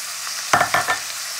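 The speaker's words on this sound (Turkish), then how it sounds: "Ben salçayı biraz yağda kavurdum." Tomato paste frying in oil in a pan, stirred with a few scraping strokes that set off brief bursts of sizzling over a soft steady hiss, close and moderately loud.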